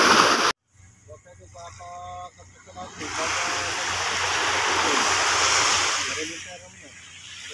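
Rough sea at night during net fishing from a boat, with a rushing wash of waves that swells and stays loud, a voice heard briefly near the start.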